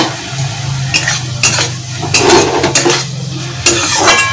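Prawns fry in hot oil in a kadai, with a steady sizzle under sharp metallic clinks and scrapes of a spatula stirring against the pan, close and loud.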